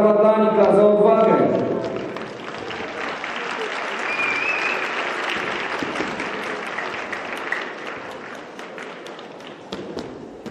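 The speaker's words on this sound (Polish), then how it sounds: "Brawa dla Anika za odwagę." A class claps for a student's bravery during a school PE session on falling technique. The applause is loud in the first two seconds, then fades into a murmur of voices and soft thuds in the room.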